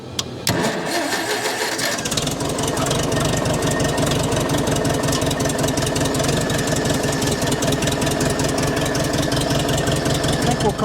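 A 1948 Farmall M tractor engine catches after a jump start, then runs loud and close with a rapid, even chugging beat. A brief lull comes first and faint voices sit beneath the clatter.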